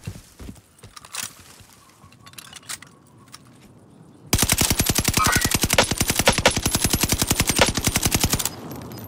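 Rapid automatic gunfire from a shooter video game, a burst of dense evenly spaced shots that runs loud and continuous for about four seconds. Quieter scattered game noises come before it.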